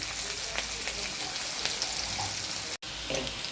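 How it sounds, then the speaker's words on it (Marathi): Chili and garlic frying in a pan for a vegetable dish, a steady close hiss of sizzling oil with faint clinks, briefly cutting out near the end before resuming. "आता हे आपली मिरची आणि लसूण आहे ना थोडासा तळलाय चांगला"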